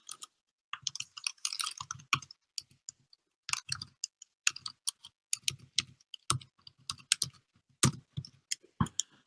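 Keys on a computer keyboard clack in quick irregular bursts, close and fairly loud, with short pauses between runs of typing and no talking.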